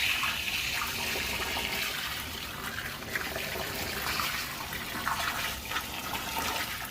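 Water rushes steadily into a tank being filled for fertilizer injection through a Venturi injector on a small strawberry farm, a continuous close splashing hiss with no talk.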